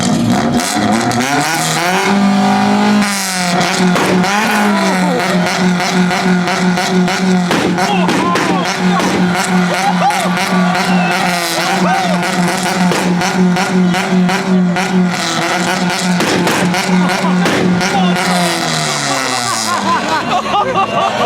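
A Honda Civic engine revs repeatedly, the pitch climbing and dropping in bursts over a steady idle, at a car meet rev battle in Japan, with crowd chatter and voices murmuring in the background.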